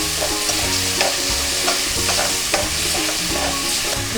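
Red chilli flakes and coriander-cumin powder sauté in oil for a coconut shrimp curry, a steady close sizzle punctuated by regular scraping stirs of the spoon against the pan, with no voices.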